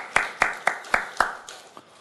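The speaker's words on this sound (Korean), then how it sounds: "하나님께 감사와 영광의 박수를 올려드리겠습니다" A church congregation claps in rhythmic unison, about six sharp, even claps in a reverberant hall, then trailing off into fainter scattered ones.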